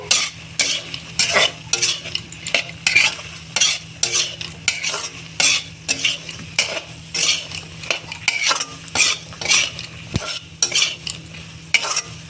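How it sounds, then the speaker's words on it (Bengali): Masala spice paste is fried in a pan while a spatula scrapes it in quick rhythmic strokes, each one a loud scratchy burst over a soft sizzle and a faint steady hum. "মশলাটা এখন একটু ভাজা ভাজা করে নিলাম"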